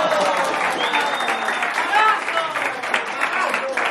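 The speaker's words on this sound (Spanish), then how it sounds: "Usualmente cuando llega a este punto la gente me aplaude." An audience claps in a dense, steady wash of applause, fairly loud and close, with people speaking over it throughout.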